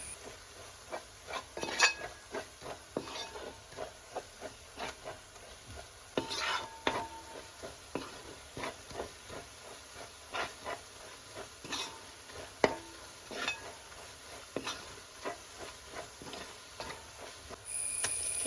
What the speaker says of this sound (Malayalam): മസാലയുടെ കുത്തുമണമൊക്കെ ഒന്ന് പോയി നല്ലൊരു സ്മെല്ല് വരണ വരെ നന്നായിട്ട് ഇളക്കി